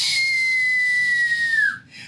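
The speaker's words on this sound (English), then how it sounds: "the door itself has a whistle to it. You can hear the wind, the balcony door." Steady high-pitched whistle of wind forcing through a cruise ship cabin's balcony door, holding one tone for nearly two seconds before sliding down and breaking off, loud and close over a low rumble.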